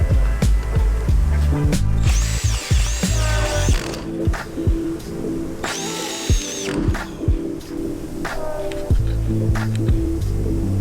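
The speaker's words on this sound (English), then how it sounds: "We're gonna have to drill those out, mark them" A power drill bores out holes in the drip rail of a 1967 Mustang Fastback being restored, with several short whining bursts between clicks, taps and handling noises, and a little talk.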